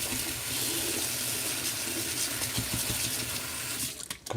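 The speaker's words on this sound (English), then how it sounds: "I'll just go over there and wash this brush now because I'm going to need it later on throughout this tutorial." A paintbrush is rinsed in water while painting a beach scene, giving a steady, close splashing and trickling wash that breaks into a few sharper splashes at the end.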